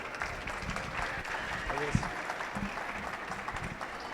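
An audience at a book talk applauds to welcome the speakers, a faint, diffuse patter of many hands mixed with murmuring voices in the room.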